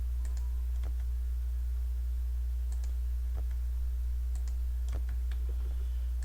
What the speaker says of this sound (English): every time I'm clicking on the tab from my keyboard